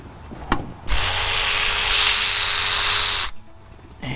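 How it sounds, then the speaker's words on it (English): Ratchet and socket loosening a 13 mm bolt during a diesel CP4 fuel pump replacement, heard as a single close, continuous buzzing burst of about two and a half seconds after a faint knock, with no talk. "This one we can get to with a ratchet and socket."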